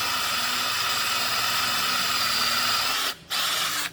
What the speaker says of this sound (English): Brand new 4mm carbide bit. I'll make short work of this.